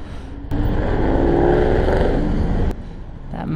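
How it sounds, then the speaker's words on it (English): A Ford Mustang engine roars up loudly and rough for about two seconds as it accelerates, then drops back to a low idle-like rumble. "That Mustang sounds kind of sick."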